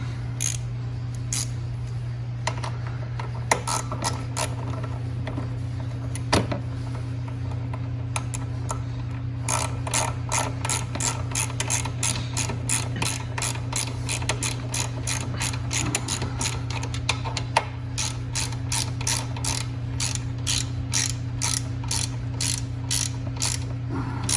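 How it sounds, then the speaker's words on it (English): A ratchet wrench tightening a number 10 bolt on the rear brake assembly of a Venom Motorsports x20/x21: a long run of close, rapid, evenly spaced clicks over a steady low hum, with occasional brief pauses. "you want to take your number 10 bolt and line it up with the bottom first. And then tighten it in place."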